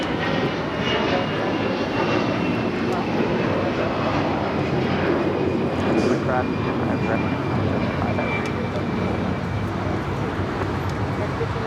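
Jet airliner engine noise at Los Angeles International Airport, a loud, steady broadband roar sustained throughout with no breaks, heard close by.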